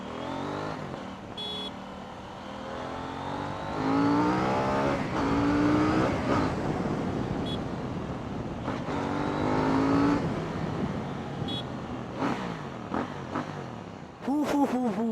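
A KTM Duke 790 motorcycle engine revs and rises in pitch through repeated accelerations while being ridden, with the sweep changing as it pulls away, under occasional talk.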